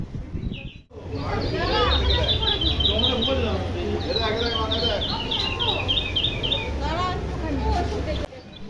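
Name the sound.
recorded bird calls played inside a puja pandal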